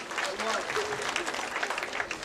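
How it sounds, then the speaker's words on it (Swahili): A graduation ceremony audience applauds, a steady wash of many clapping hands filling the hall for a couple of seconds, with voices mixed in beneath it. "Jamani, tunaweza kuwapa tena makofi."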